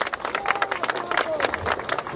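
Scattered applause from an audience at an outdoor public address during a handover of renovated works, brief uneven clapping mixed with crowd murmur and a speaking voice.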